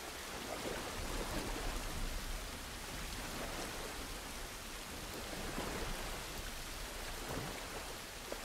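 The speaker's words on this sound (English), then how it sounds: "at least we're out of the rain" Steady rain in a video game, a dense hiss of falling drops with faint low rumble, continuous and moderately quiet throughout.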